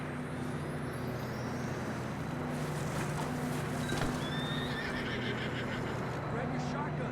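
Horses in the Red Dead Redemption 2 video game snorting and neighing with shuffling hooves over a steady outdoor rumble, while characters talk throughout.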